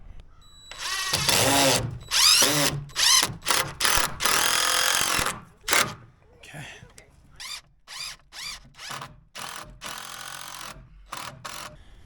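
A power drill drives screws into 2x4 lumber on greenhouse rafters in repeated close, loud whirring bursts, long at first and then shorter, separated by brief pauses.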